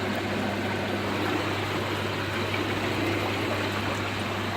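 Filtered water pouring from an Evolution Aqua Nexus filter back into a koi pond, a steady, close broadband rush and trickle with a faint low pump hum underneath, no talking.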